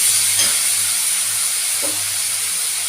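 Spice paste frying in oil in a pan for a cabbage and shrimp curry, a steady close hiss with a couple of brief stirring scrapes, no voices.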